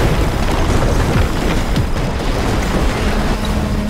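A structure collapsing in the Xbox One game Screamride, with a loud, continuous rumbling crash of debris and low booming that holds steady for several seconds.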